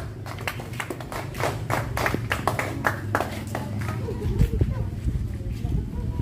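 An audience at an elementary school certificate ceremony in the Philippines claps in a brisk, rhythmic run of individual claps, moderately near, with voices talking underneath.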